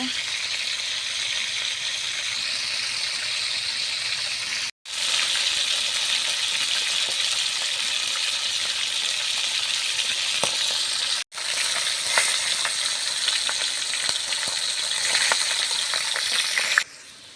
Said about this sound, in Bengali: এই যে মাছ ভাজতে দিয়েছি মাছটাকে আমি একটু ভালোভাবে ভেজে নেব